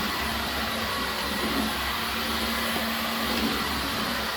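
A Dyson V15 Detect cordless vacuum cleaner runs steadily throughout, giving a constant close whirring motor drone with an airy rush of suction and no voices.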